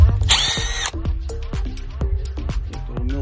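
A power drill backs out Phillips-head screws holding the radio in a 1991 Nissan Hardbody truck, with a loud whirring burst at the start followed by several short, sharp mechanical bursts and clicks.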